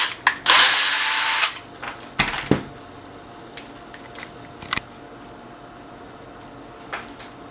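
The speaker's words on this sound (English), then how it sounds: "Drill another hole on the other side." A power drill whines in one short, loud burst drilling a hole in a helmet, followed by scattered clicks, knocks and handling noises.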